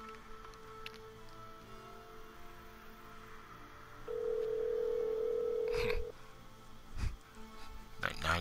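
A 90s-style touchscreen phone in the Sagebrush video game, a long steady dial tone for about two seconds followed by short beeps and thumps of dialing.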